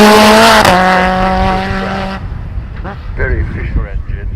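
A track day special car with a very efficient engine roars past loud and close on a circuit, its strong harmonic engine tone dropping in pitch as it passes, then fading away while people talk in the background.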